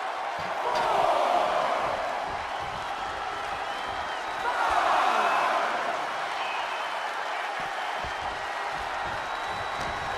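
A wrestling suplex slam in the WWE 2K25 video game during an Elimination Chamber match, heard as two swelling impacts amid a roaring arena crowd, with commentary over it.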